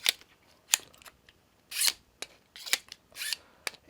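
Scissors being drawn through a Smith's Jiffy Pro knife and tool sharpener, giving a run of sharp, close scraping strokes and clicks with brief pauses between them.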